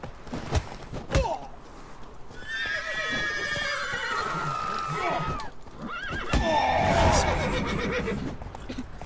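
Horse neighing in The Witcher 3, two long loud whinnies with hoof clops and a few thumps between, close and prominent.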